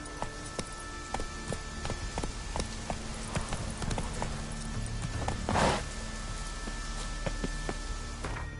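Horse hooves clip-clop at a steady pace while a rider travels on horseback in The Witcher 3, with regular close hoofbeats over ambient game sound and a brief burst of noise midway.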